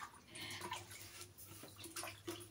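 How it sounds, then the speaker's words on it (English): Hands are rinsed in a basin of leftover mixing water during a craft project, with soft close splashes and trickles, quiet and intermittent, no talking. "With the leftover water, I'm going to wash my hands."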